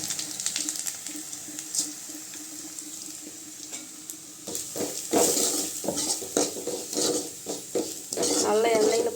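Curry leaves and a ground paste being sautéed in oil for rasam, a quiet sizzle at first, then louder bursts of stirring and spattering, with running water joining near the end.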